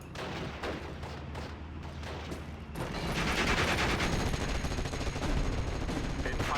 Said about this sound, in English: The MGs should definitely blow that up.